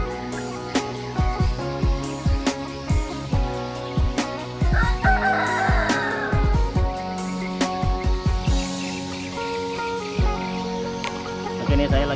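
A rooster crows repeatedly at close range in a poultry pen, its calls mixed with clucking hens and other farmyard noise.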